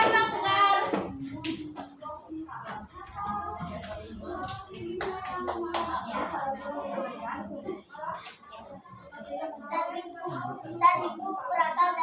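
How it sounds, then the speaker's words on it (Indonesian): Primary school students in a classroom clapping for a group that has just presented, light scattered applause mixed with children's chatter and voices, moderately close. "Tepuk tangan dulu untuk kelompok 2."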